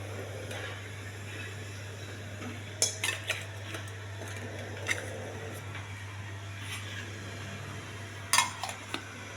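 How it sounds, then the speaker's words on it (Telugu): Scattered clinks and clatters of dishes and metal containers being handled, sharp taps at irregular intervals over a low steady hum, no talking. "బాక్సులు అన్నీ కట్టేస్తున్నానండి పట్టుకెళ్ళడానికి."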